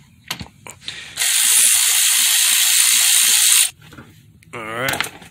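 A ratchet wrench spins out a 10 mm bolt near the radiator of a 1996 Honda Civic, giving one loud, steady buzzing ratchet run of about two and a half seconds between softer handling clicks and a rising squeak.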